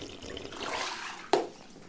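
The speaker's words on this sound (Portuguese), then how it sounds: "Water glass." Water swishes and trickles in a glass, with a soft running wash and a sharp splash or clink near the end, close and fairly quiet.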